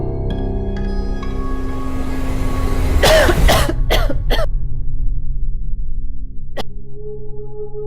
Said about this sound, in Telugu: రాత్రంతా దగ్గుతూనే ఉంది నాన్న